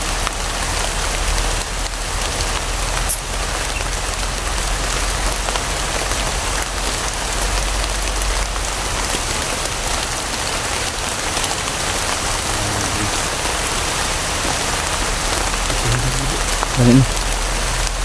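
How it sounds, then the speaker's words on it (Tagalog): Heavy rain pours down in a steady, dense hiss that stays loud and even throughout, with no pauses. "Ayan o, lumakas yung ulan."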